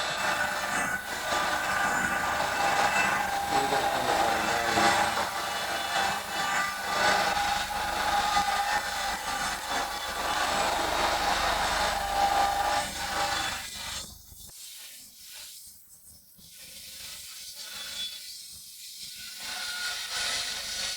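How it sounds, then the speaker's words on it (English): A wooden plank for a Galway hooker sailing boat feeds through a planer thicknesser, giving a loud, continuous rasping drone for about fourteen seconds before the cut ends and the machine's sound drops to quieter, uneven rumbling. "Each plank is recorded going through the thicknesser"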